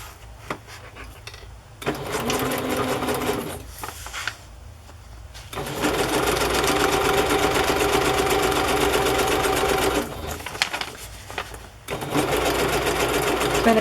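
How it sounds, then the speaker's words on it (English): Sewing machine zigzag stitching over thick yarn, running in steady bursts with a dense rapid needle chatter, pausing briefly between runs and stopping near the end. "I'm just going to zigzag over the yarn."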